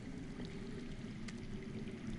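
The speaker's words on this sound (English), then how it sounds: "I hear water. From underground." Water flows somewhere underground, a faint, continuous rushing wash that holds steady with no break.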